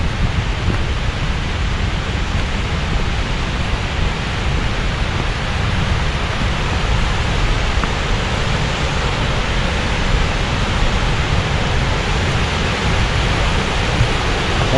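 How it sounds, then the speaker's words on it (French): A waterfall in the Marcadau valley splits into two streams, producing a loud, unbroken roar of rushing water that stays steady from start to finish, with no voices. "Voilà, la cascade elle se sépare en deux."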